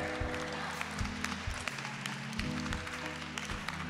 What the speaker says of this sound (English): give them a round of applause as they go to class